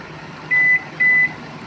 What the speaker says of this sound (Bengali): দু মিনিট দিয়ে স্টার্ট দিলাম